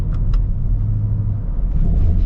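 A 2023 Ford Raptor R pickup truck rolls over a cattle guard, giving a steady loud low rumble of engine and tires with a couple of brief rattling thumps near the start.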